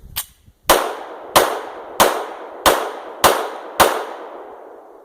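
An Oriskany Arms gun fires Winchester standard commercial ammunition in seven loud, crisp shots at an even pace about two-thirds of a second apart. Each shot rings out with a short metallic decay, with no talking.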